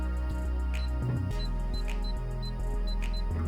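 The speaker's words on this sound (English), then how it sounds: "So I'm going to open the safe up with the default code," A home safe's keypad takes its default code as a run of short electronic beeps over several seconds, mixed with soft button clicks and low mechanical hum, close by and with no speech.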